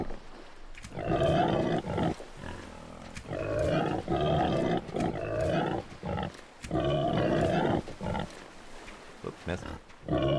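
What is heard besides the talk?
boar grunting in the video game Under a New Sun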